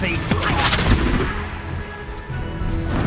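A Confringo blasting curse goes off in the Hogwarts Legacy video game, a loud booming burst with crashing impacts set amid dense battle noise and music, with a voice shouting at the start.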